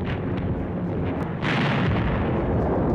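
A German 88mm flak shell explodes in a heavy roaring boom that swells midway through, with dense rumbling blast noise filling the whole stretch and no voices.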